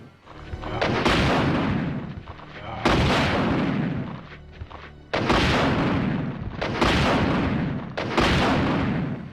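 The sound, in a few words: Infinite Rocket Launcher firing in video game Resident Evil 2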